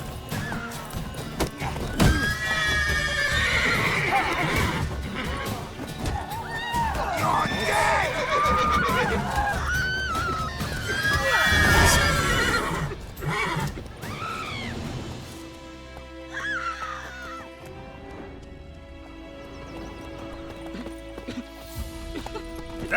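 Roach the horse in The Witcher 3 neighing and galloping, loud whinnies over rapid clip-clop hooves, mixed with shouting voices and game music, before the action fades to a quieter musical stretch.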